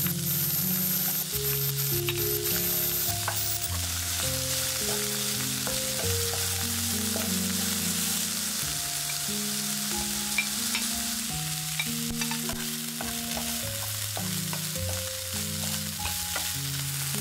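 Garlic, onion and mushrooms stir-fry in hot oil in a pan with a steady, loud, continuous sizzle and crackle throughout, under a melodic background tune, with no talking.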